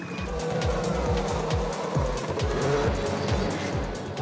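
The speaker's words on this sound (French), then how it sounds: "Ils ont ramené des Formule 1. C'est des malades. La parade de nos véhicules, c'est parti." Race cars, including Formula 1 cars, parade around the Magny-Cours circuit at Red Bull Motormania, a loud continuous rush of engines with repeated revving sweeps and passing cars, no talk.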